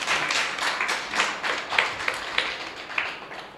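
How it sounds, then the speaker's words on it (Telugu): A congregation claps at a Christmas sermon, a fairly soft run of uneven clapping with a few sharper claps standing out, and no talking. "చప్పట్లు కొట్టండి దయచేసి"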